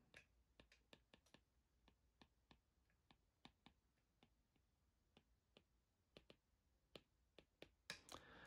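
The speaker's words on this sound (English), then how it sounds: "that's the sound of the Apple Pencil." An Apple Pencil taps sharply and repeatedly on an iPad screen during handwritten note-taking, crisp close clicks in an irregular rhythm against near silence, ending in a brief rustle.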